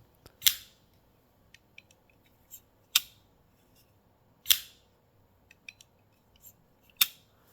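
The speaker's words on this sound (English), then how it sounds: "one thing I really do like about this knife are the sounds that it makes" Hinderer Full Track Wharncliffe flipper knife snapping open and shut, four sharp metallic clicks spaced about two seconds apart with small fiddling ticks between, close and crisp in a quiet room.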